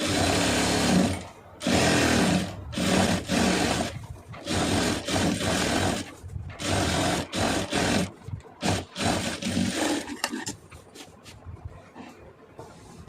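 Sewing machine stitching a cloth mat, running in loud close bursts of rapid whirring separated by short pauses, then tapering into softer intermittent stitching near the end.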